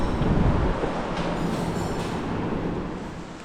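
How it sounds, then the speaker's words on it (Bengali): A waterfall below the entry gate at Keonjhar gives off a steady broadband roar, loud at first and easing slightly as it continues. "আর নিচে ওয়াটারফলের আওয়াজ পাচ্ছ নিশ্চয়ই"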